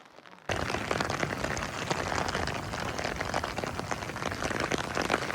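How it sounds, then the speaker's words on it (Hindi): Heavy rain pours down in a Pakistani mountain valley, a steady dense hiss that starts abruptly and holds loud and constant throughout with no voices. "छतरी भी टूट गई है, बारिश भी बहुत ज़ोर से लगी हुई है।"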